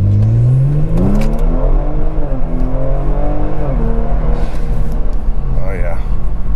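A Kia Stinger GT engine roars close by, its pitch climbing sharply as it accelerates hard through shifts from a red light, loud and sustained.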